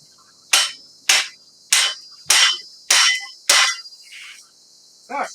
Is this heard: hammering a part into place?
yes